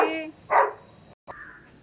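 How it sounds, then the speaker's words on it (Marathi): A small puppy barks at morning feeding time, giving a couple of short, close, high-pitched yips with a brief whine, while a voice is heard at the start. "छोटा पिल्लू आलाय मम्मम खायला"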